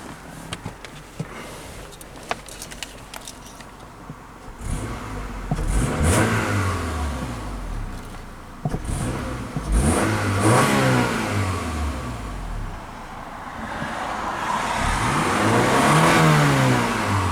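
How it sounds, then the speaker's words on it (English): A 1998 Honda Accord EX with a 2.3L engine idles, then is revved several times in rising and falling bursts, each climbing sharply before dropping back, heard up close without talk. "So go ahead and hop inside and give it a few revs."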